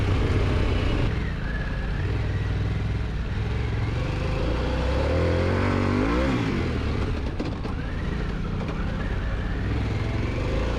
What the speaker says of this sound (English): The engine definitely encourages you to give it the beans.